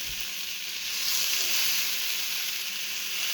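Eggplant pieces sizzle in hot oil in a frying pan with salt and turmeric, a steady close hiss of frying that swells slightly midway and carries on without talk.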